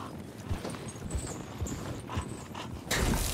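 Hooves clip-clop in a steady walking rhythm in the video game Paladins on Xbox One, several distinct thuds close by, ending in a louder burst of noise.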